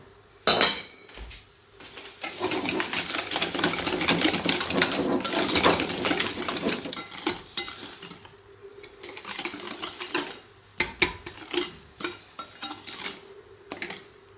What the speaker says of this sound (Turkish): Şimdi bunu çırpma teliyle karıştırarak daha köpük köpük bir karışım elde edeceğim.